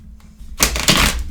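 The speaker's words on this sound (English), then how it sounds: "I need to shuffle these up a little bit more" A brief burst of tarot cards being shuffled by hand, quiet rustling that swells into two sharp, loud riffling bursts up close, with no talking.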